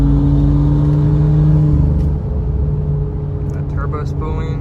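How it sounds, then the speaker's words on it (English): A BMW F30 335i with a Vargas stage 2 turbo and a Go Fast Bits diverter valve spools up while driving. A loud engine drone with a rising whine gives way to a steadier rumble as it cruises on. "That turbo spooling."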